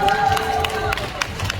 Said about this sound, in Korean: 독립기념관 노조에게 박수 한번 보내주세요